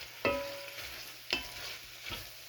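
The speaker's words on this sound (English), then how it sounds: "next I'm just going to give it a quick stir with my wooden spoon" A wooden spoon stirs San Marzano tomato sauce in a Dutch oven, giving two distinct scraping strokes and a fainter third over a quiet background hiss, with no talking.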